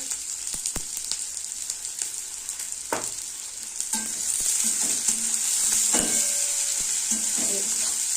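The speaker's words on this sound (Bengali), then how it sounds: "পেঁয়াজগুলোকে একটু ভালো করে ভাজা ভাজা করবে" Onions frying in oil in a pan with green chilies, a steady sizzle running throughout, with occasional scraping stirs and clinks of a spatula, no talking.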